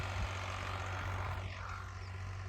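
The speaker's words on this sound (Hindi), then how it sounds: "और अब ट्रैक्टर वहाँ चला गया।" A farm tractor driving off across a field being cleared, its engine a steady low drone that holds loud and constant throughout with no voices.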